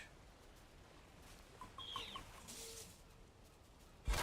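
Chickens in the video game Valheim give a few soft, distant clucks in a brief cluster within a quiet chicken farm scene, followed by a sharp thump at the end.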